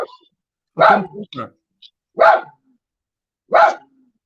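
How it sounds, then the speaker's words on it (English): A dog barks in three loud, separate bursts about a second apart, close to the microphone during a casual live online meetup, with brief quiet gaps between the barks. "Is that your dog, Cooper?"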